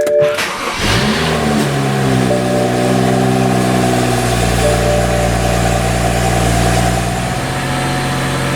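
A 2012 BMW 335i engine with a faulty fuel vent valve cranks, catches and revs up, then settles into a steady, loud idle hum that holds to the end.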